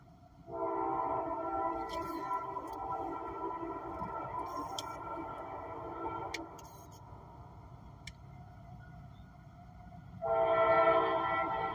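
An intermodal freight train rolls past with a long, steady rumble and droning wheel noise over about ten seconds, swelling again near the end, with faint clanks over the top.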